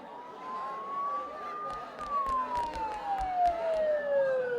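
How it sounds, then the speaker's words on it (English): Video game sirens from Persona 4 Golden: a wailing siren sweeps up and then slowly falls, loud and near, over a busy background rumble with scattered sharp clicks and knocks. "Don't those sirens sound really close?"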